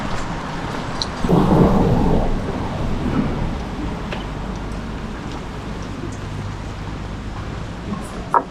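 Blustery wind roars across the microphone with rain falling steadily outdoors in a British town street, a strong gust swelling early before settling into a constant rushing wash.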